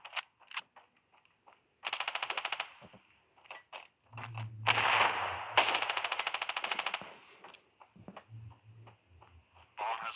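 Rapid automatic gunfire from the mobile shooter game Standoff comes in two loud, sustained bursts, with scattered single shots and short clicks between them. A voice is heard in the background.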